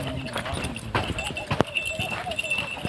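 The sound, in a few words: mare walking, hooves clip-clopping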